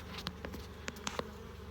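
Honeybees humming around an open hive while frames are inspected, a steady close buzz with a few sharper passes and light clicks over a short stretch.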